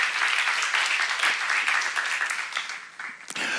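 A congregation claps together during a church seminar, a loud, dense burst of applause that stays full before tapering off into a few scattered claps at the close.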